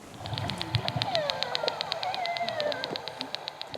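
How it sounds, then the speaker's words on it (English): A rapid, steady train of sharp underwater clicks with faint whistling tones sliding beneath, against a hissy background. "That clicking sound is how the whales locate fish to feed on."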